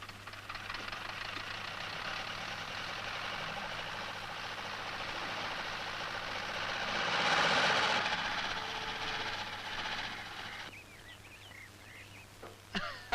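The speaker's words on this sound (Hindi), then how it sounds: "तुम सिर्फ बंदूक ही नहीं ट्रैक्टर भी चला लेते हो।" A tractor engine in an old Bollywood action film runs steadily for several seconds in a loud, continuous mechanical drone. It swells briefly midway, then drops lower toward the end.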